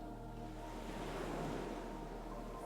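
Ocean waves washing onto a beach, a soft continuous surf wash swelling and receding under a steady low hum, faint and distant.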